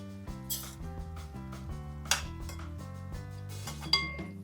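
Metal clinks and clatters as a lid is set on a pot of lapsi, an Indian dessert, in a home kitchen, with a few sharp knocks over steady background music.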